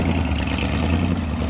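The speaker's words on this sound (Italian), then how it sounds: "Senti che roba, motori che rombano" Vintage race vehicles at The Race of Gentleman, their engines roaring in a dense, steady rumble that fills the short stretch, loud and close with no break.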